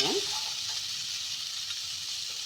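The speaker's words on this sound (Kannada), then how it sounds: "ಸ್ವಲ್ಪ ಫ್ರೈ ಮಾಡ್ಕೊಬೇಕು ಯಾಕಂದ್ರೆ ಸ್ವಲ್ಪ ಹಸಿ ಸ್ಮೆಲ್ ಹೋಗೋವರೆಗೂ" Ingredients for a kabuli chickpea gravy fry in a pan, giving a steady, close hissing sizzle that stays even for a couple of seconds.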